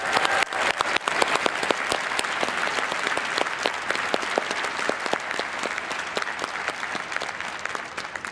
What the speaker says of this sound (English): Let's give them a massive round of applause.